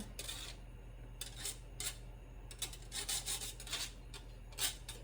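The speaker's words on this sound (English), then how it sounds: "So I just take a butter knife and I just kind of scrape the ginger out." Butter knife scraping grated ginger off a kitchen grater, a series of short rasping scrapes in uneven bursts, close and fairly quiet over a low steady hum.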